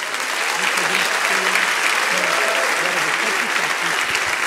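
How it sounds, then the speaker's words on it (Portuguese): A congregation at a church service bursts into loud, dense applause, a continuous wash of clapping with voices and shouts mixed in underneath. "Vamos aplaudir esse pessoal."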